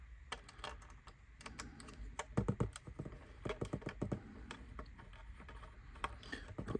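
A small screwdriver taps and scrapes faintly against screws in the plastic base of a 1:87 HO scale radio-controlled model van, with soft irregular clicks close by and no talking.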